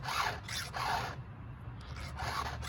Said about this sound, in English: It's the top of the tooth that you're sharpening.